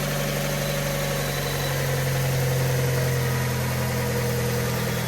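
A Fiat 500 engine, just fitted with a new timing belt and water pump and still without coolant, idles at close range with a steady low hum and faint vibration, running evenly with no voices.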